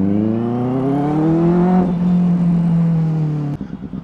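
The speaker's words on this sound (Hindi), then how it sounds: "आवाज बहुत प्यारी है, डुअल एग्जॉस्ट है।" A Benelli 600i motorcycle fitted with a loud dual SC exhaust gives a steady, strong engine drone whose pitch climbs and then settles, close and dominant, before breaking up abruptly near the end.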